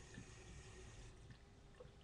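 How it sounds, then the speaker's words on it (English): Water squeezed out of a wet paintbrush while cleaning it at a sink, a soft steady trickle and splash that stays faint and close. "you just want to squeeze it like that to get all the water out"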